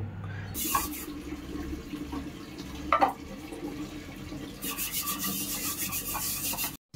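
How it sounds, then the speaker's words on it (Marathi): Tap water runs into a sink while dishes are scrubbed by hand at home, a steady rushing stream with rubbing and scraping, a couple of clunks, then a louder flow before it cuts off abruptly. "भांडे घासतो मग हातपाय तोंड धुतो स्वच्छ आणि मग फ्रेश होतो"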